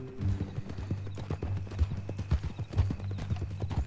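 Horse hooves clip-clopping at a steady walking rhythm in Red Dead Redemption 2, close and fairly loud with regular thudding beats, no talk over them.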